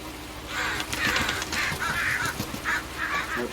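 Several crows caw repeatedly over a field being drilled with seed, harsh calls coming in an irregular series at moderate distance over a low background rumble, with no talking.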